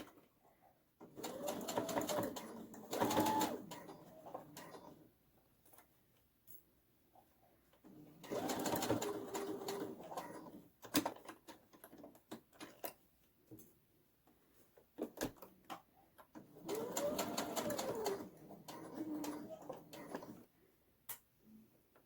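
A sewing machine stitching a fabric face mask with a filter pocket and elastic runs in three long bursts of steady whirring, separated by quieter pauses with small handling clicks, close and moderately loud.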